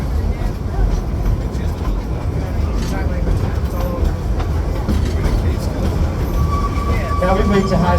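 Dollywood Engine 70 steam train ride at the Iron Mountain Summit, a loud rumbling rattle of cars rolling along the track with a voice talking over it.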